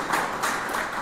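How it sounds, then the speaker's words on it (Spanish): An audience at a formal agreement-signing ceremony gives steady, dense applause, a continuous wash of clapping with no gaps throughout. "Un fuerte aplauso, por favor."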